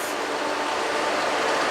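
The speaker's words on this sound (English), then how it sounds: "Bye bye, double-decker train" A double-decker SNCF train pulls away from a station platform with a steady, loud broadband rumble and rolling noise that swells slightly as it departs, with no voices.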